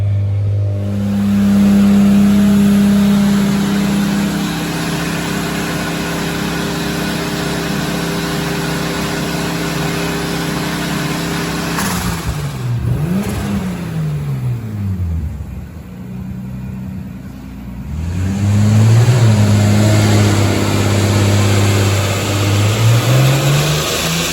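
A Lexus IS300 with a swapped 2JZ-GTE engine and T56 gearbox is driven hard, giving a loud, close, continuous engine drone with sweeping rev climbs and drops in the middle and near the end.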